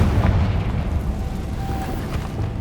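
Confringo blasting spell in the Hogwarts Legacy video game, a dense rumbling explosion boom that fills the short clip with a heavy low roar and crackle.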